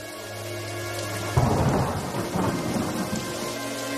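Steady heavy rain pours down as a deep rumble of thunder rolls in partway through, swelling and fading beneath the downpour.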